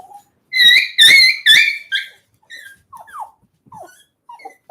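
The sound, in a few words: dog barking and whimpering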